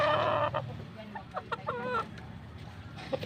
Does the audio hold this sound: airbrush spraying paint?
no